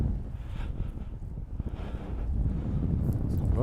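Steady wind buffets past a paraglider in flight off Carolles-Sud-Ouest near Mont Saint-Michel, a low, gusty rumble rising and falling close to the microphone with no voices.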